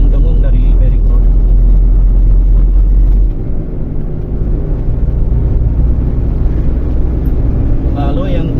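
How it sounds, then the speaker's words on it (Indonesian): An old car drives along with a deep, steady low rumble and hum from a worn wheel bearing, loud and continuous, with the tone shifting slightly partway through. "Ini ada indikasi dengung-dengung dari bearing roda."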